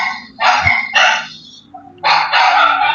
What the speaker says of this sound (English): Yes, I have dogs.